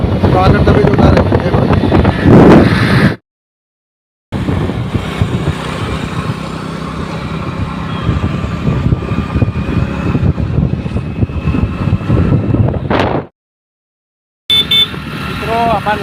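A motorbike ridden on an open road, its engine rumbling under heavy wind buffeting on the microphone, broken by two silent gaps, while people talk over the noise.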